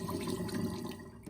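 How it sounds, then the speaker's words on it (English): Cold tap water runs into a sink over cooked lasagna noodles, a close, steady gushing splash that eases slightly toward the end, with no talking. "Rinse the noodles with cold water."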